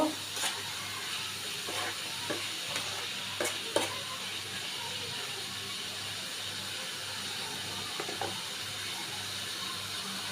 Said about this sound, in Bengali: তো আমি পেঁয়াজটা ভালো করে ভেজে নিব।